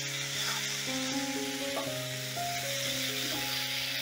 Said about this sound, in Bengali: পনিরগুলো আমি হালকা লাল লাল করে ভেজে নেব।